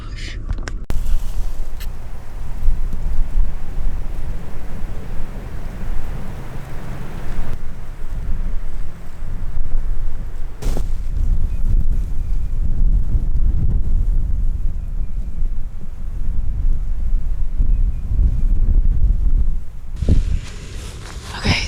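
Strong, cold wind buffets the microphone outdoors during a turkey hunt, producing continuous loud low rumbling gusts that roar almost without pause.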